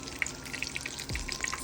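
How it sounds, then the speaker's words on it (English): Cheetos Flaming Hot chicken tenders fry in hot oil with a soft, steady crackle and sizzle at close range, with no talk. "I'm cooking them up, frying them up."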